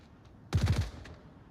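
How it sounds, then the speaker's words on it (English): A quick burst of roughly four rapid gunshots in the VR shooter Onward, loud and close, standing alone against quiet background during a competitive match. "Early gunshots coming in from NFI."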